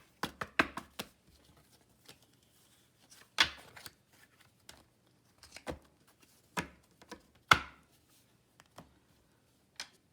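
Tarot cards being shuffled on a table in a quiet room, heard as scattered soft riffling and tapping bursts, some closer and sharper, separated by pauses.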